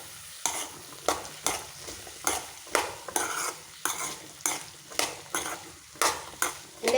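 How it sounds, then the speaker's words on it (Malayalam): Chopped potato and onion fry in a pan while being stirred, with rhythmic scraping sweeps about every half second over a steady sizzle, close and unaccompanied by speech. "അരിഞ്ഞു വച്ചിരിക്കുന്ന കിഴങ്ങ് ഇട്ട് കൊടുക്കാം ഉരുളൻ കിഴങ്ങും കുറച്ച് സവാളയുണ്ട് അതും കൂടി ഇട്ട് കൊടുത്ത് മിക്സ് ചെയ്യാം"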